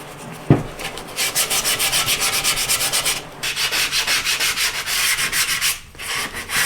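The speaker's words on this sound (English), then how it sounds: "I've got a little more sanding to do on this side" A wooden round pocket tray is hand sanded with rapid rhythmic back-and-forth strokes, close and steady, broken by a brief pause midway.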